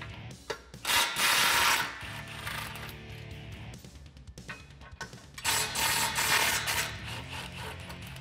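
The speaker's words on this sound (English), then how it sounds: "grab your 16mm socket and disconnect these two bolts." A ratchet with a 16mm socket works the exhaust flange bolts loose on a 2019-2020 RAM 1500, making close, busy clicking and mechanical rattling in uneven bursts with brief pauses.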